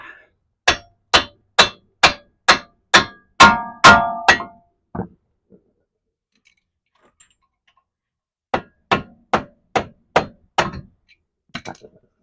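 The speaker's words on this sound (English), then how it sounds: "And tap the axle out." A hammer taps out a CV axle on a 2017 Toyota Corolla: a quick run of about nine sharp metallic strikes, a pause, then another burst of six blows and a few lighter taps, close and loud.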